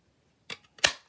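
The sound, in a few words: paper punch cutting cardstock stems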